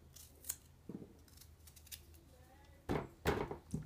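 Scissors snip gherkins and chili peppers for pickling, making several faint, crisp cuts spaced apart, with the last two louder and closer.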